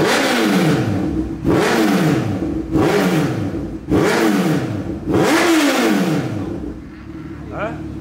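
A 2020 Honda CB1000 motorcycle fitted with a titanium full race exhaust revs hard five times in a row, each loud, close blip rising and then falling away, before the engine drops back to idle at the end.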